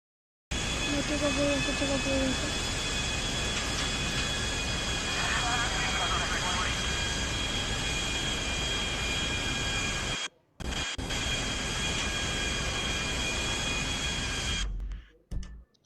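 A continuous jet-engine roar from an airplane at an airport in the game GTA V drones with a steady whine, broken by one brief cut near the end before fading out.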